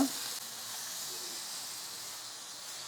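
Kerala-style fish frying in a pan over a medium flame, a steady close sizzle and hiss that holds evenly throughout without any break or talk.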